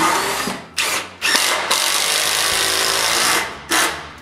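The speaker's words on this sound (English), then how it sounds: "When everything is dry, I drill holes for the mounting screws." A power drill boring mounting-screw holes in wooden shop shelves, running in several close bursts of whining drilling with short pauses between them, loud and alone.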